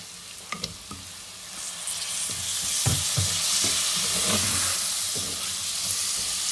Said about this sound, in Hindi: इसको 4-5 मिनट के लिए हम लोग मज़ीद भूनेंगे